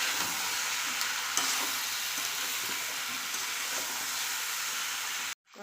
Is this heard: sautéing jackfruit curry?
yes